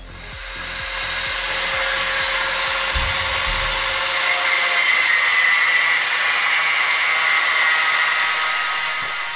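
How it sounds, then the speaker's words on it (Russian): A metal mount for an Oka walk-behind tractor is cut to shorten parts that are too long. A loud, steady whine of a power saw or grinder runs almost the whole time, with a few rough strokes near the start. "Сейчас мы их попробуем немножко пильнуть."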